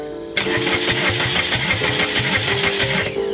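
A 420A car's starter cranks steadily in a fast, rhythmic churn. The engine never catches, and the cranking stops abruptly after about three seconds with no talk over it.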